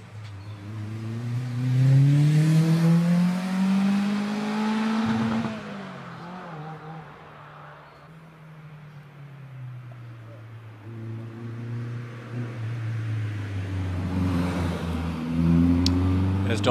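A 1600 Caterham Super Sport climbs the Prescott hill climb, its engine note rising and falling through gear changes as it passes, with a commentator talking over it.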